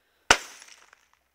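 A glass bottle smashes once with a sharp loud crash, followed by a brief tinkle of scattering shards that fades over about a second.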